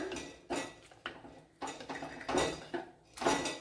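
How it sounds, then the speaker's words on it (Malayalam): Boiled tapioca (kappa) being mashed in a metal pot, giving a series of scraping, clattering utensil strokes in uneven bursts, close and moderately loud, with no talking. "ഇനി കപ്പയെ നല്ലവണ്ണം ഒന്ന് ഉടച്ചെടുക്കണം"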